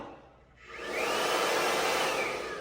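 A Martino Freestyle Systems Turbopower blow dryer switches on after a brief quiet moment and quickly rises to a loud, steady whirring rush of air that continues close by.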